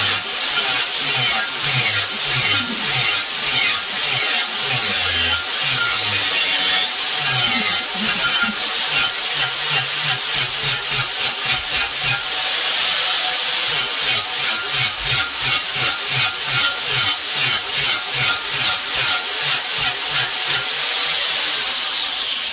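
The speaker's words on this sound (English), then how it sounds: "It's just easier to grind this stuff off with this 40 grit" Angle grinder with a 40 grit disc grinding down steel welds on a burn barrel, a loud continuous harsh whine with a steady pulsing rhythm, close and alone throughout.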